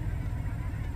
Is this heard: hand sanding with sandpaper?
no